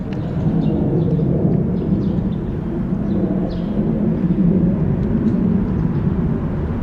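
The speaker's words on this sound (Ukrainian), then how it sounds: "І щось десь летить. Можливо, це наші винищувачі." A loud, continuous low roar of aircraft engines over Kyiv rumbles steadily throughout, broad and heavy, like jets passing somewhere overhead.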